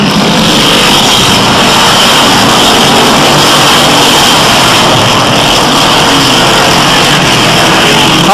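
Short-track race cars run under green down the backstretch in a loud, dense wall of engine noise that holds steady throughout with no break.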